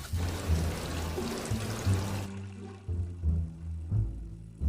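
Water runs from a sink faucet, a steady splashing pour that breaks into intermittent gushes and trickles as the flow is partly blocked, close and moderately loud.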